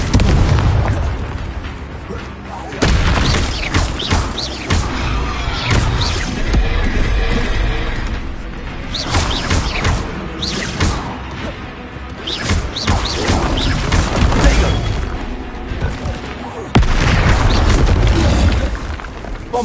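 Repeated loud booming blasts from the Confringo fire spell in Hogwarts Legacy, several heavy explosions with crashing, shattering debris packed close together, dense and forceful across the whole stretch.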